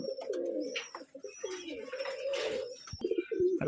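Several Giribaz pigeons coo close by in soft, repeated throaty rolls, overlapping one another with a few faint chirps and rustles.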